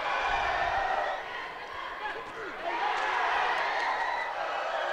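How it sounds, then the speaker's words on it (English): A Philippine crowd at a 2019 SEA Games flyweight boxing quarterfinal, Philippines versus Indonesia, roars and cheers in a sustained swell, rising again after a brief dip, heard from across the arena. "To the delight of the Philippine crowd."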